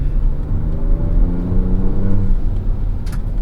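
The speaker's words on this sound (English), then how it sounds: "You say as you immediately floor the throttle?" A 2024 Ford Ranger Raptor pickup accelerating hard at full throttle on a canyon road, its engine note rising in a loud, steady, close roar with no talking.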